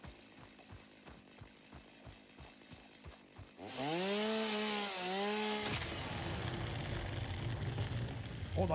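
A chainsaw in the factory-building game Satisfactory starts up at full roar midway, a loud steady buzz with a pitch that bends down and back up, after rhythmic footsteps and light machinery clatter.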